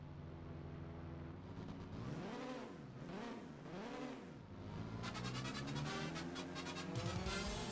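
In the PS1 game Formula Nippon, a race car engine revs up and down in sweeping waves, then climbs sharply after a gear shift into a higher, buzzier whine, with steady in-game engine sound throughout.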